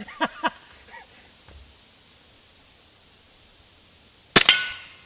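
A Glock 17 Gen 4 CO2 trainer pistol fires one sharp, loud shot near the end after a quiet stretch, preceded by a few soft clicks and handling noises.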